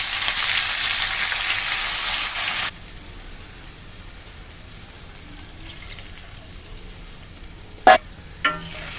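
Loud, steady sizzling of tilapia curry in a pan after water is poured in, hissing broadly for a few seconds and then dropping to a quieter simmer, with two sharp clinks near the end.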